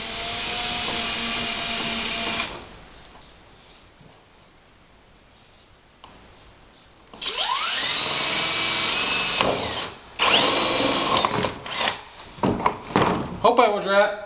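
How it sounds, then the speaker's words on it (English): A power drill with a 1½ inch hole saw bores a hole for a bulkhead fitting on a DIY evaporative swamp cooler: a loud whine, a quiet pause, then a revving cut whose pitch sweeps up, ending in short bursts. "you better get you a 1½ inch hole saw, and that is to put in here for the bulkhead fitting"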